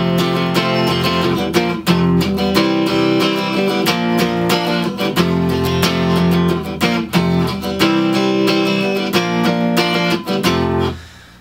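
Strummed acoustic guitar plays intro chords, a loud, rhythmic, continuous strumming pattern that rings out alone and fades at the end.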